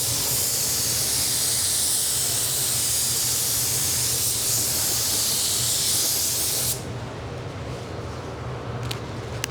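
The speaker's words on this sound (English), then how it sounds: "I'll just go ahead and put my sealer on once that etch is gone" A spray gun lays waterborne sealer (Speed Hector 5650) over a car panel, a loud, steady, close hiss lasting several seconds before cutting off to quieter room noise and a couple of faint clicks.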